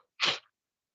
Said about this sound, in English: Sister is sneezing all the way through.